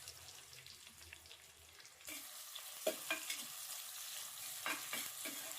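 Chopped onions fry in oil with whole spices in a pan for rajma pulao, a soft steady sizzle that grows louder partway through, with occasional spatula scrapes and taps.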